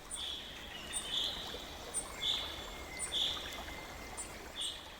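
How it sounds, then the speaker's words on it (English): Water flowing gently and steadily past open windows, a soft continuous trickle, with bright bird chirps repeating about once a second over it. "The faint sound of water moves slowly past open windows."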